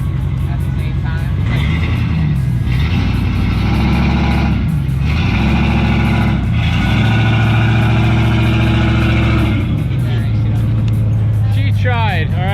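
A car engine revs repeatedly with brake and gas held together, loud rising and falling surges over a steady idle, with people talking over it.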